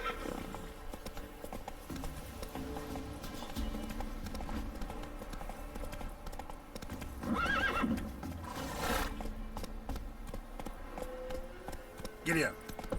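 A horse gallops in The Witcher 3: Wild Hunt, with continuous hoofbeats, a loud neigh midway and another whinny near the end, under game ambience and speech.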